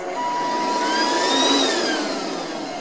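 A Bissell Bolt Ion cordless 2-in-1 vacuum cleaner, used as a handheld, runs with a steady close high whine and airy roar throughout, its pitch shifting slightly midway.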